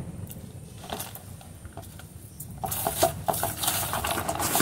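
Potato momo filling with onions, chopped green chilli and salt being mixed by hand in a bowl. Soft, irregular squelching and stirring noises grow denser and louder in the second half, with no talking.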